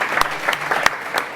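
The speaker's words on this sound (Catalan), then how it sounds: "un aplaudiment per aquest primer" A small audience at the GastroMar cooking demonstration in l'Ampolla gives a brief burst of applause, a short sequence of uneven, fairly close claps.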